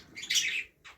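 Budgerigars in a breeding room giving a brief, bright chirp followed by a fainter second chirp, close and clear over a quiet background.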